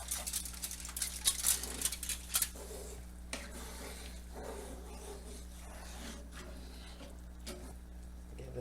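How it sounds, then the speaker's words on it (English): Cheesy mac and cheese stirred in a pan, faint scraping and clinking of a utensil against metal, busiest early and then quieter, with soft bubbling underneath. "Give it a stir."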